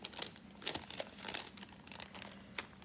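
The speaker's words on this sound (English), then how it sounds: "I'm just gonna fold it." Paper crinkles and rustles faintly up close as it is folded into a junk journal pocket, in a few soft crumpling bursts.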